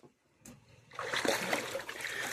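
Water splashes and sloshes over a cow in a steady, fairly loud rush of broadband noise, after a brief quieter start.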